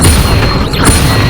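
Incendio fire spell cast in the video game Hogwarts Legacy, a loud, dense burst of fiery whooshing and booming that fills the short moment, steady and close without a clear break.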